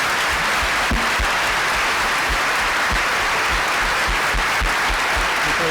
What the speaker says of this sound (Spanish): aplaudan, venga